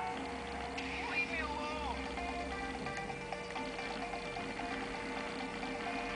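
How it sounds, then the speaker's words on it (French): Engine drone from a stolen motorbike in the iPhone game Gangstar Miami runs steadily throughout, with someone talking over it. "il y a une moto, donc je vais la voler pour vous montrer"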